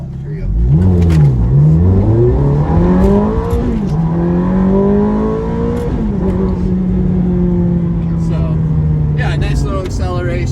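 A Ferrari 430 engine accelerates hard, its loud revving tone sweeping upward through rising gear pulls, then easing into a steady, sustained drone near the end.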